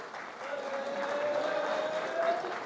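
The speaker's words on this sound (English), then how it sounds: "give yourselves a round of applause" An audience at a motivational talk applauds in a short, fairly faint burst of clapping, with a sustained tone or voice running beneath it.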